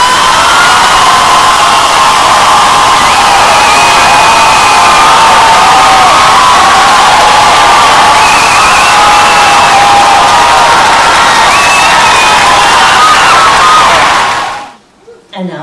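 An audience at a state final round of the METG festival applauds and cheers loudly and steadily, with whoops and shouts, sustained for about fourteen seconds before cutting off abruptly.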